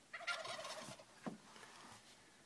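Turkey gobbling from fowl nearby, a rapid rattling gobble burst up front followed by a shorter second gobble, then quiet background; no talking.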